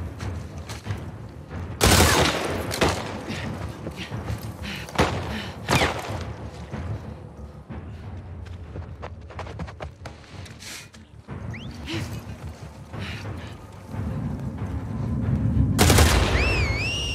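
Video-game gunfire in The Last of Us Part II, with several sharp loud shots and bursts spread across the scene, some close and heavy, others thinner, with quieter movement and ambience between them.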